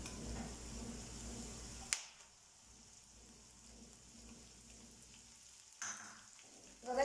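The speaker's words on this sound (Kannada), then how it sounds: "ಇವಾಗ ಚೆನ್ನಾಗಿ ಫ್ರೈ ಮಾಡ್ಕೊಳ್ಳಿ." Curry leaves and roasted gram fry in a pan, giving a soft low sizzle with a sharp crackle near the start and another burst of spattering later, quiet and close.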